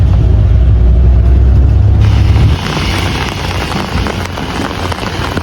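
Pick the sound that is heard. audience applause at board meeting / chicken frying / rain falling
rain falling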